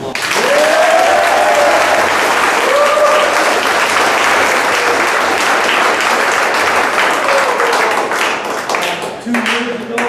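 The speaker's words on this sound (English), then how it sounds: "go ahead and give him a round of applause" A crowd at a cross-country team awards night applauds a coach, loud and sustained clapping from many hands, with a few whoops and voices rising over it toward the end as it tapers.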